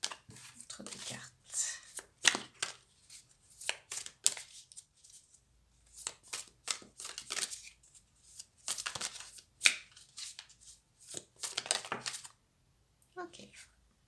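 A deck of tarot cards is shuffled up close in repeated riffling bursts separated by short pauses, crisp papery flutters alternating with quiet gaps.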